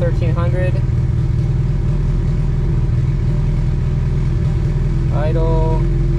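A Honda D16Y8 engine in an EK coupe runs at a steady, loud, close idle from start to finish, with brief bits of voice near the beginning and again near the end.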